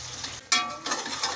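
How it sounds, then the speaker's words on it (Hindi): Chicken pieces for a large batch of korma frying in a pot, a close hissing sizzle broken by scraping stirs, with no speech. "तो चिकन को हम फ्राई कर लेते हैं"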